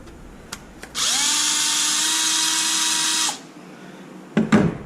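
A power drill whirs steadily for about two seconds, unscrewing small screws from a receiver box during a dismantling job, with light clicks before it starts and a clatter after it stops.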